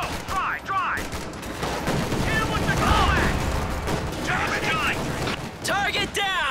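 Battlefield gunfire from the World War II strategy game Company of Heroes 2, Ardennes Assault campaign: loud, sustained bursts and booms rolling continuously, with shouted voice commands cutting in over the fighting.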